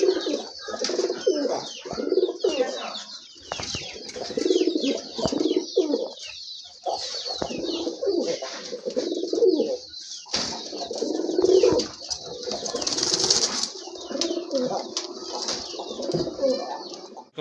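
Local deshi pigeons coo repeatedly in a low, throaty rhythm, close by, with brief wing flaps and faint chirps mixed among the calls.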